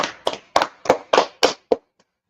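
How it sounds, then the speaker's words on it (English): Seven sharp bursts of hand clapping from a congregation, loud and close, coming in a quick uneven rhythm and then stopping abruptly. "Let's clap it up for the Lord."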